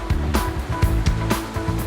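Waves crash on the beach below the cliffs at Foz, Portugal, making a loud, close, continuous surf roar with repeated rushing surges.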